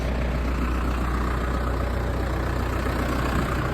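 Engine idling steadily while forks lift a Polaris four-wheeler, a loud constant low rumble with no change and no talk.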